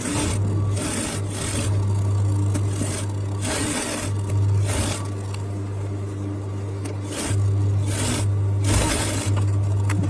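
Sewing machine stitching an Aso Oke bustier flare dress, its motor humming in steady close runs broken by short pauses, loud and alone with no talk.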